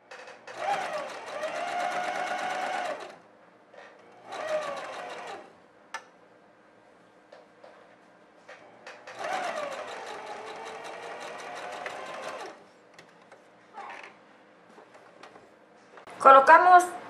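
Sewing machine stitching a seam on a girl's dress, heard in several short mechanical bursts of a few seconds each, separated by pauses, fairly close and moderately loud.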